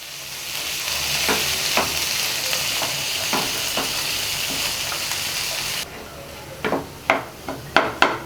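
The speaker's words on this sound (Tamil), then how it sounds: "இப்போ இந்த மசாலாலாம் இந்த காயில் நல்லா கோட் ஆகிற மாதிரி கலந்துடலாம்" Pea and vegetable stuffing tossed with masala in a hot pan gives a steady sizzle, then stops as sharp spoon scrapes and clanks against the pan punctuate the quieter end, with no talk.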